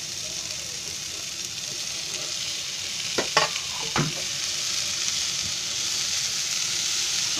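Tomatoes and pumpkin pieces sizzle steadily in a pan for a homemade dosa filling, a constant hiss with a few brief stirring knocks midway.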